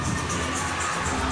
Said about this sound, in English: The crowd's still giving us the Newcastle chant.